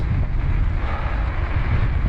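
Steady wind rushing through a cold, snowy winter forest during a mountain bike ride near Croix de Paulhe, a continuous low roar with gusty buffeting on the microphone, no voices.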